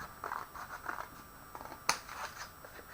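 Crisp snips of scissors cutting through paper, a few short strokes with one sharp, louder cut near the end, close and clear with no talking.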